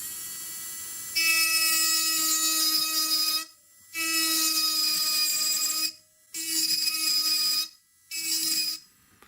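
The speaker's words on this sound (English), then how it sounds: "I'm going to use a ball burr just to take out some metal right in the middle where the cullet of the stone will contact the shank" A ball burr grinding metal inside a ring shank for stone setting, heard as a steady high-pitched whine running in four bursts with brief pauses, close and clear, with no talking.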